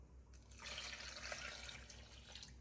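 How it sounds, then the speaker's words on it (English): Cold water poured into a blender for a hibiscus and watermelon agua fresca, a soft splashing stream that starts after a brief pause and runs steadily to the end, quiet and close, with no talking. "We're going to add 2 cups of cold water."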